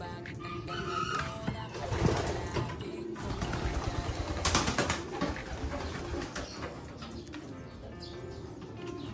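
Pigeons coo softly inside a newly built coop, low repeated calls layered with scattered bird noises and background clatter, steady throughout with no talking.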